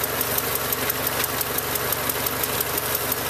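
A car engine runs steadily with its battery removed, powered only by the alternator, making a continuous close, even idle with a fast rhythmic ticking on top and no talk.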